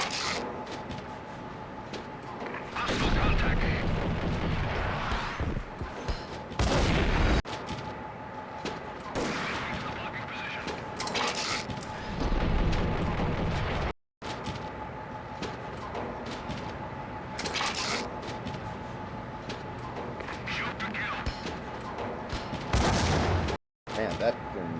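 Gunfire and a wide-reaching grenade blast in the Max Payne video game, loud, heavy bursts of shooting and booms recurring across the stretch, with someone talking over the action.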